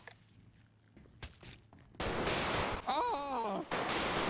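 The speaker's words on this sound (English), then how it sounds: "Shots fired." Gunfire breaks out in a GTA roleplay standoff at Humane Labs: a loud, sustained burst of shots and noise erupts midway and runs to the end, with sharp transient hits over a dense rumble and a brief voice-like cry.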